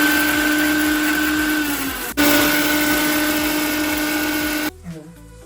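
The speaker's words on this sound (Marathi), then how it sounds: "मिक्सरच्या भांड्यामध्ये या मिरच्या बारीक करून घेऊया" An electric kitchen mixer grinder whirs steadily while grinding green chillies with no water added, a loud continuous motor drone that dips once, restarts, then cuts off near the end.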